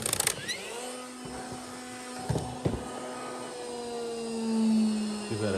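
DeWalt DFD405214 Stick-E rod hanger fastening tool spinning down after a fastening, a steady motorized whine with falling tones and a couple of brief knocks, close and moderately loud with no talk.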